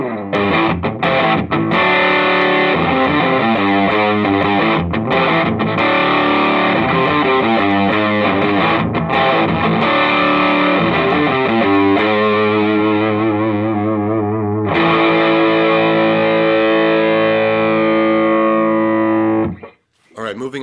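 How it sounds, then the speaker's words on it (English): Heavily distorted electric guitar through a Soundblox Multiwave Distortion pedal on single band normal mode plays a chunky 70s-style rock riff with sustained chords, loud and close, ending in a brief pause before a final strum. "with single band normal, you can get a classic distortion"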